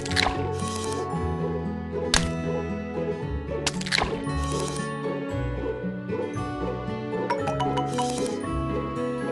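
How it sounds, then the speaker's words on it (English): Cartoon squishing and liquid pouring effects from an online cake-making game as eggs, milk, oil and vanilla go into the batter, a few short bursts over steady cheerful background music. "add the eggs, milk, oil, and vanilla."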